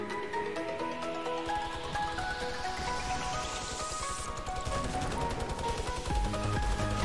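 Repeated hand cannon gunfire in Fortnite, a dense run of sharp shots layered over busy game sound and music, steady and loud throughout with no talk.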